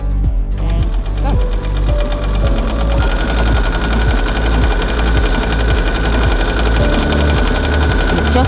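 A sewing machine stitches a buttonhole automatically, keeping up a loud, rapid, mechanical clatter of needle strokes at close range from start to finish, with no talking.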